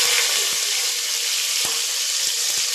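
Chillies and tomatoes frying in a pan, a loud continuous sizzle with several sharp crackles and pops scattered through it, no talking.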